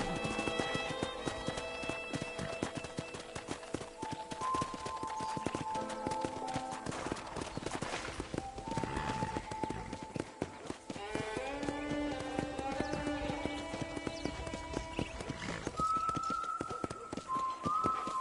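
Horse hooves clip-clop in a steady walking rhythm in Red Dead Redemption, accompanied by background music with occasional bright melodic notes and bleating animals.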